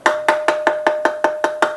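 Eight even knocks on an intercom door speaker in a steady quick rhythm, each a hollow thud with a slight ring, heard close with a faint constant tone underneath.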